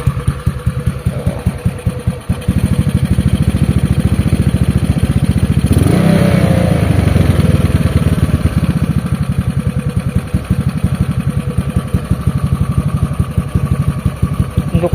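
A carbureted Honda Beat scooter engine freshly rebuilt with new piston and crankshaft bearings, fitted with a tube-style aftermarket exhaust, idles with a steady loud putter and blips its revs once around the middle before settling back.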